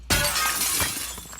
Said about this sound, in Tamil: கண்ணாடியை உடச்சி உள்ளே லூட் அடிச்சுட்டு போகிறோம்.